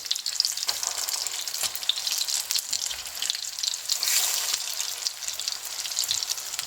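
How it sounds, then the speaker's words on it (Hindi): Chicken shami kababs sizzle steadily in a frying pan, a continuous bright crackle of hot oil with small pops throughout and no talking. "मुझे 1 से 2 मिनट लगी हैं इनको एक साइड पे फ्राई करते हुए"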